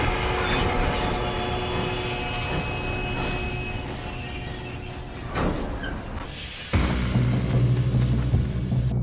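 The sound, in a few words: train in video game Red Dead Redemption 2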